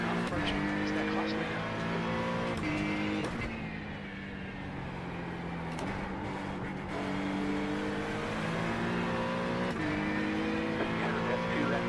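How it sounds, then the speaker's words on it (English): Sim racing in iRacing, a GT3-class race car on track: steady droning engine harmonics that shift pitch as gears change, sustained throughout under near-constant talk. "Faster car coming up quick. Faster car approaching."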